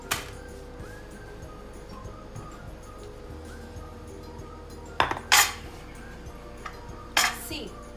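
A hot grill tray holding a lasagna comes out of an oven with a few loud metallic clanks and scrapes over a low, steady kitchen hum.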